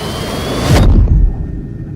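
A jet aircraft's engines roar loudly and up close in a broad, rushing wash that swells toward the middle, then loses its hiss and settles into a lower rumble.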